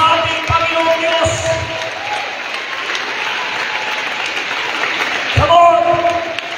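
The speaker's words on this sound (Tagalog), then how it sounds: "Sige mga nanay, yung palakpak sa ating Panginoon Diyos." A church congregation of mothers applauds for the Lord, broad steady clapping and crowd noise filling the room, with a voice and a few louder bursts rising over it near the end.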